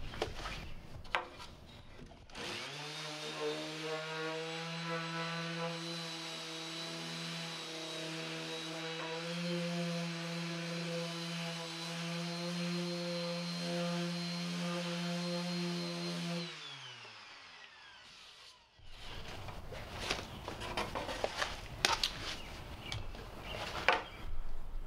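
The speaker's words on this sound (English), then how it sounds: "I've got my router here with a half inch straight bit and the parallel fence" Wood router fitted with a half inch straight bit and parallel fence, running at a loud steady high whine for about fourteen seconds as it cuts, then spinning down, with clattering handling noises before and after.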